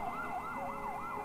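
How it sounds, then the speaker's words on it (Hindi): An ambulance siren wails steadily in a Hindi horror audio story as the vehicle passes through a dense, deserted place, its rising and falling tone cycling evenly and continuously, loud and alone. "एम्बुलेंस एक घनी और सुनसान जगह से गुजर रही थी।"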